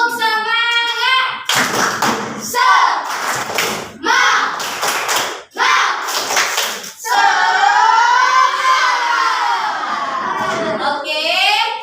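A primary school class performs the rhythmic 'tepuk semangat' clap chant, bursts of group hand-clapping alternating with children's chanted voices, loud and close in a classroom during a teacher-led lesson.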